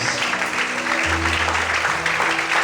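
Church congregation applauding during an evening service, a dense steady clatter of many hands filling the hall, with a low sustained keyboard tone underneath and no talking.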